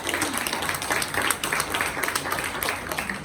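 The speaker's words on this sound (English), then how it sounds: "let's give Luke a big round of applause." An audience claps for a boy named Luke at a reptile education show held by a herpetological society, a lively patter of hands continuing for a few seconds.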